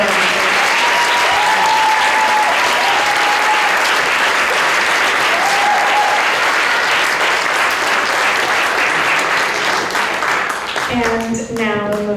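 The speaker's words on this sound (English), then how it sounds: "How about another round of applause for all of our" An audience at a poetry celebration breaks into loud, sustained applause that holds steady for about ten seconds before it fades. A voice briefly sounds over the clapping, and a speaker begins talking at the end.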